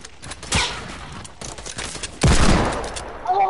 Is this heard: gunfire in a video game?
yes